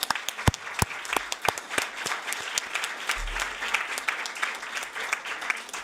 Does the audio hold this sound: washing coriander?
no